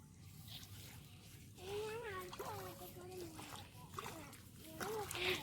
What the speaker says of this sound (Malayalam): നമ്മൾ വെള്ളത്തിൽ കൂടെ നീന്തി നീന്തി പോവുക